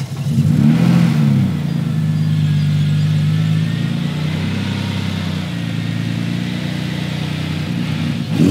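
Supercharged BMW E36 engine on a dyno, starting and then revving with a steady loud drone and several rises and falls in pitch, close and dominant with no talk over it.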